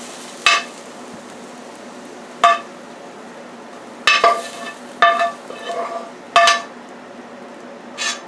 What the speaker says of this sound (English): our vegetables have been cooking for about 8 minutes